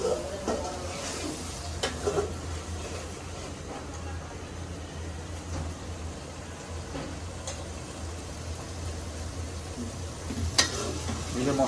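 Spice paste of onion and garlic frying in a pan for a festive fish dish, a steady close sizzle with scraping stirs and occasional utensil knocks, under faint voices.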